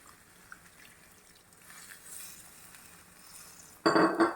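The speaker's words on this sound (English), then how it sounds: "What we need to do is now to just add water for the gravy consistency." Quiet kitchen background, then a loud burst of pouring and sizzling as water hits a hot pan of chicken gravy near the end.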